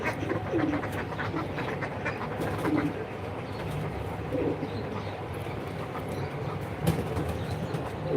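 American Angel pigeons give repeated soft, murmuring coos, moderately close, over a constant rumbling background noise.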